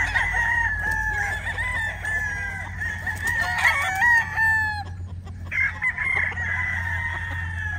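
A White Kelso gamecock rooster crows loudly and close, several drawn-out calls in sequence with brief pauses, over a low steady background hum.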